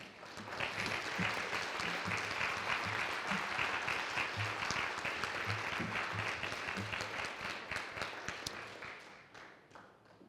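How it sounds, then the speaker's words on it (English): An audience applauds at a university Three Minute Thesis competition, with dense, steady clapping that carries on for several seconds before tapering off at the end. "while you applaud all of them for their work tonight"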